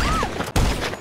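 Gunfire in Grand Theft Auto V shooting at a cockroach, a loud dense burst of shots packed across the second, broken by one brief cut midway.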